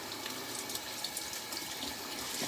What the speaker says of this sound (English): I'm gonna get my washcloth wet with some hot, warm water